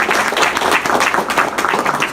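Audience at a motivational talk breaks into close, loud applause, quick uneven bursts of clapping pulsing throughout the short stretch.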